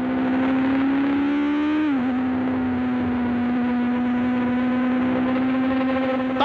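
A Formula 1 car on a Grand Prix circuit, heard from an onboard camera: a loud, steady engine drone holds one pitch, dips briefly as the driver shifts, then sustains again without talk.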